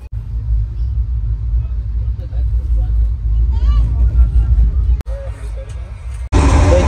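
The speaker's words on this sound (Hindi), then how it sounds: "देखिए अब भाई अपनी असली रफ्तार में अपनी गरीब रथ एक्सप्रेस" A Garib Rath Express train runs at full speed, around 100 km/h, heard from inside as a heavy continuous low rumble with passengers chattering, ending in sharp louder bursts near the close.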